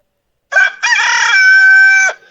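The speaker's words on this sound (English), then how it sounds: "It's called cock-a-doodle-doo." A rooster crows once, loud and close, in a single long cock-a-doodle-doo that starts with a brief clipped note and then holds a bright sustained tone before cutting off, with silence around it.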